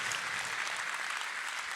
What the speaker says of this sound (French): Donc moi je vous propose également de les applaudir,